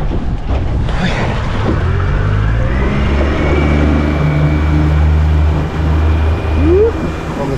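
A boat motors in over ocean swells, its engine a steady loud drone under heavy wind rush and water noise, with the pitch rising briefly near the end.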